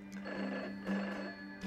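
A telephone bell ringing, a steady electronic trill held through the clip and starting again near the end, heard indoors with a low hum behind it.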